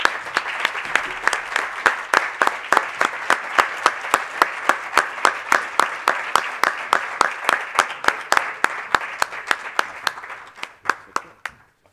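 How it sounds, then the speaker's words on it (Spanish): An award ceremony audience claps in a sustained round of applause, dense and even at first, then thinning to a few last claps near the end. "Un aplauso."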